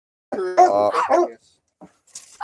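A dog indoors in a home giving a close, loud, drawn-out whining bark or howl-like yelp, then a brief pause and a few faint noises.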